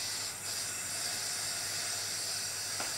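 A powder coating spray gun blows powder onto an oven-dried metal part for a steampunk Nixie clock, making a steady, close, fairly loud hiss that runs unbroken with no voices.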